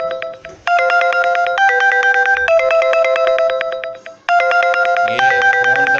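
A mobile phone ringtone plays loud and close, a repeating electronic melody of bright beeping notes in stepped phrases with a short pause between.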